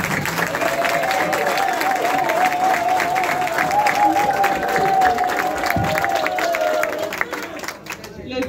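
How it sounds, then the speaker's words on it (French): An audience at a ceremony for graduating actors applauds steadily, a sustained wash of clapping and crowd noise with some cheering, tapering near the end. "Applaudissez pour vous."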